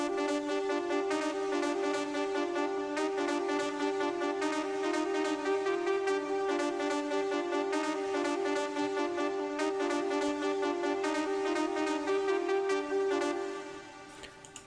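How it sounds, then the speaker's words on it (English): A Surge XT synth patch called Choning, layered over a ravey techno melody, plays a dense, bright sustained tone with steady repeating notes, loud and alone, fading out near the end. "I started with this patch called Choning."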